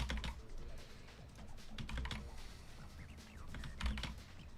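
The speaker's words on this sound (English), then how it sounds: "lots of tedious typing." Fingers tap steadily on a computer keyboard in quick, uneven bursts of clicks, close and quiet, with no talking.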